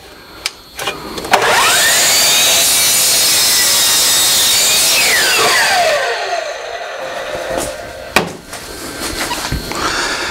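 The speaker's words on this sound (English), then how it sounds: "I'm going to use my Hitachi chop saw" A Hitachi chop saw spins up with a whining motor, bites through a piece of wood in one loud sustained cut, then winds down, with short knocks before and after.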